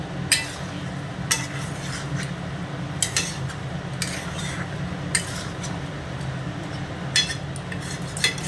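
Mutton curry with meat masala and a little garam masala being stirred in a pot, a spoon scraping and clinking against the metal every second or so over a steady low simmering bubble.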